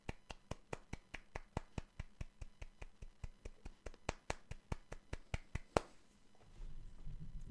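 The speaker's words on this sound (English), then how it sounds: "all I can do to show my adoration for this man is simply golf clap" One person gives a steady golf clap, about two dozen evenly spaced soft claps close to the mic, which then stop and leave a low rumble.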